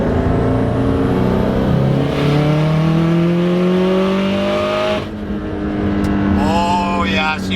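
Subaru STI accelerating hard in a pull after misfire repair, a loud steady engine note rising in pitch through the gears, with a brief drop at a shift before climbing again.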